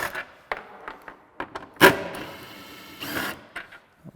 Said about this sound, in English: There's two T40 fasteners we're going to remove.